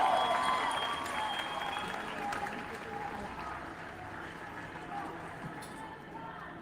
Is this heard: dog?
no